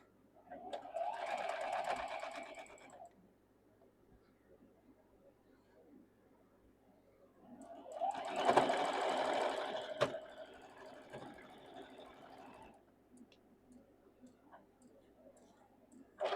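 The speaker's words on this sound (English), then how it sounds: "let's sew these 2 together" Sewing machine stitching quilt blocks together in two separate runs, a close, fast, even mechanical whirring, each burst lasting a few seconds, with quiet pauses and a few clicks between.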